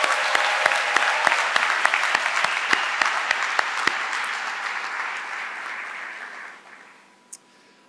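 Audience applause at a university athletics press conference, a dense burst of clapping with sharp individual claps standing out early, loud and steady for about six seconds before thinning out and fading, with one late isolated clap.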